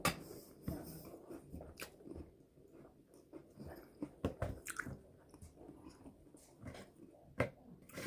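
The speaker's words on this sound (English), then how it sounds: "Crackers are no good. I'm not going to eat any more." Quiet, close-up crunching and munching as crackers from a Belarusian military ration are chewed, in irregular bursts.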